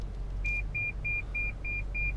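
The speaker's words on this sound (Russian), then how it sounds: "заработал парктроник" Lexus LX 570 parking sensor emitting six evenly spaced, steady electronic beeps over a low engine idle hum inside the car.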